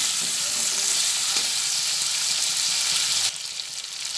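Whole spices fry in hot oil ahead of Gobindobhog rice, giving a loud, steady sizzle with faint stirring clatter that drops off slightly near the end.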